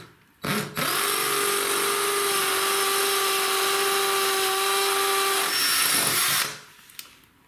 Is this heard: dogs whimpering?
no